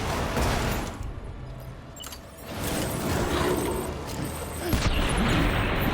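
Gunfire in the video game Death Stranding, a busy rattle of shots and impacts over a rumbling background, with a few sharper bursts toward the end.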